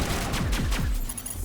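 Gunfire in the Mass Effect video game comes as a dense burst of rapid booming shots with descending sweeps, loud and continuous over a short span.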